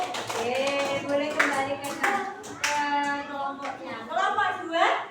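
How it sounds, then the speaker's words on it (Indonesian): Schoolchildren in a classroom clap for a group, bursts of rhythmic hand claps under a teacher talking. "tepuk tangan untuk kelompok 1"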